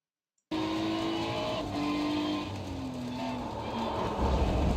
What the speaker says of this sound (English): It does sound like as if the car is slightly trying to accelerate. Like as if he's tapping the accelerator.